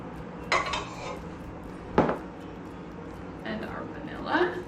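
Two eggs going into oatmeal cookie batter in a bowl at a bakery's fall-fair demonstration bring a few clinks and knocks of utensil on bowl, one sharper tap near the middle, over a steady room background.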